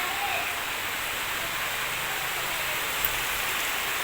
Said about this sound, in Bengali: এই দেখো কেমন বৃষ্টি পড়ছে